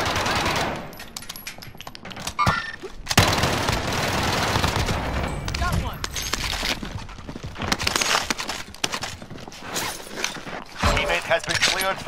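Rapid automatic gunfire from an AMAX loadout rattles in loud bursts in Call of Duty Warzone, with short pauses between volleys, booms and scattered footsteps, while players talk over the shooting.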